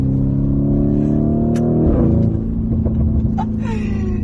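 A 4-litre twin-turbo V8 supercar engine revs loudly and steadily, its pitch climbing and then dropping through a downshift, with rumbling exhaust crackles near the end.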